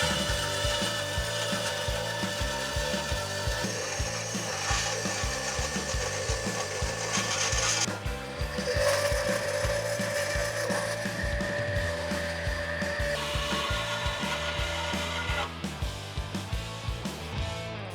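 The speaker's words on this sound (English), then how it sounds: "I'm cutting this out on the bandsaw." A bandsaw cutting 3/16-inch plate in a car shop produces a continuous, loud mechanical whine with rapid rhythmic rattling, and its pitch shifts slightly partway through. No one speaks.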